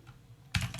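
Keystrokes on a computer keyboard as a command line is typed, a short quiet lull followed by a quick cluster of close, crisp key taps.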